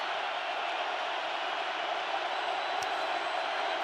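Steady, dense roar of a stadium crowd yelling at an NFL football game in Seattle, Panthers at Seahawks, a continuous loud wash of noise with no breaks.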